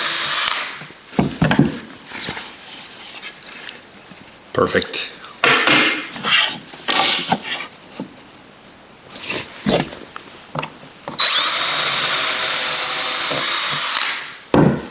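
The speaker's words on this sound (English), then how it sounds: "Pilot hole drilled." A power drill whirs into pallet wood drilling pilot holes in short bursts, then one sustained high-pitched run, with a person speaking between the bursts.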